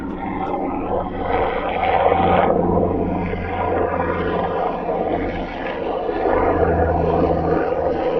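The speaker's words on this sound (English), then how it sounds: "we have a helicopter flying over the cemetery" A search and rescue helicopter passes over a cemetery, its steady broadband roar and low rotor drone filling the whole stretch, fairly loud and constant with slight swells.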